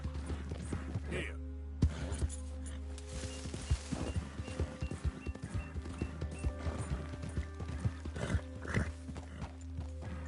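Horse hooves in the video game Red Dead Redemption 2 clip-clop at a walk with an occasional neigh, close and fairly quiet over a steady low hum.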